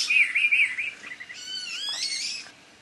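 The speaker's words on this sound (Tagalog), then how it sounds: "Vlog din yung mga ibon" Birds chirp outdoors at an adventure park, with a few bright repeated tweets up close, followed by a longer run of mixed warbling calls that fades off at the end.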